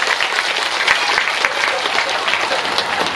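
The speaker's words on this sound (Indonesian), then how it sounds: "masyarakat mohon tepuk tangannya" A crowd at an Islamic religious lecture in Kroya, Indramayu, claps steadily, a dense, loud wash of applause that holds evenly throughout.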